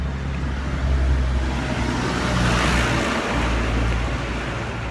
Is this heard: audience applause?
no